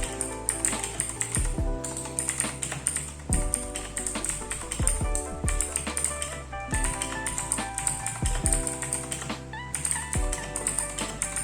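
Typing on a computer keyboard at a desk setup, rapid crisp key clicks in bursts with short pauses, close and clear over faint background music.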